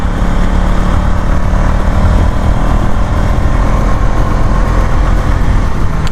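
A motorcycle engine drones loudly and steadily while riding near Kenyir Lake, a constant close rumble with wind noise.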